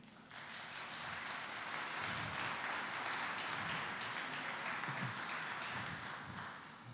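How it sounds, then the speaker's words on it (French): Audience applause at a breeders' federation general assembly, a steady wash of clapping from a room full of people that holds at an even level for several seconds before easing off. "C'est elle que vous applaudissez, j'imagine."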